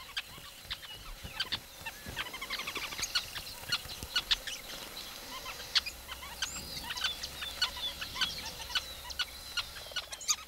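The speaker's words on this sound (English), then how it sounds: "rosy-faced lovebirds, a small type of parrot." Small parrots, rosy-faced lovebirds, give sharp repeated chirps and squawks in quick irregular bursts, fairly close, with a steady hum of other wild birds and a faint low rumble behind.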